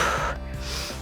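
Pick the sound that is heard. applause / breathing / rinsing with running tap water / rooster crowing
breathing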